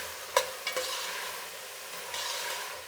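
Vegetables such as beans, carrots and peas are stirred in a pot for bisibelebath, with a sharp scrape of the spoon near the start, a few softer knocks and scrapes after it, and a low sizzle running underneath.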